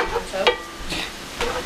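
Food frying in a pan on a home stovetop, with a steady soft sizzle and a few stirring scrapes and clinks at irregular moments, close by.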